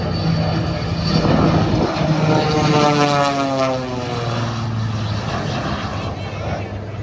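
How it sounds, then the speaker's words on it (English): Vintage propeller aircraft at the Blue Angels air show, a loud, steady engine roar with a sliding pitch as it passes close overhead, then fading slightly while continuing. "he can reach speeds of over 250 miles per hour and climb a rate that was never believed possible when these aircraft were built"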